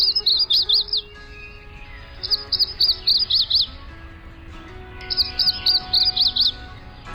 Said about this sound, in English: today's Talking Birds featured feathered friend, the yellow-throated warbler